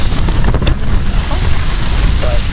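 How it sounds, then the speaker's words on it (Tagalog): Strong wind at a cold lakeside campsite at Lake Tabeo, Philippines, roars and buffets the microphone in a loud, continuous rumble, with faint splashing and creaking underneath. "Grabe, lakas ng hangin."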